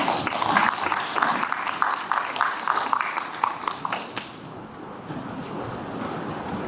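Audience at a civic climate and environment centre launch ceremony applauds a speaker, dense sharp clapping for about four seconds that then thins and fades into faint room noise.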